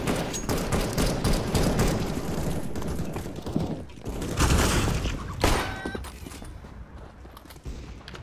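Gunfire in CS:GO with dense bursts and scattered shots mixed with footstep-like thuds, loud and up close, with a sharp burst near the middle.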